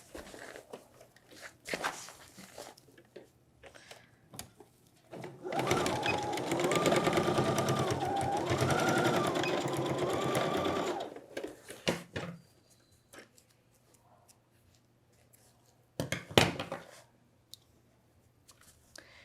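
A sewing machine runs a seam in one steady burst of about six seconds, a close whirring hum with shifting pitch, surrounded by quiet handling clicks and faint rustling before and after.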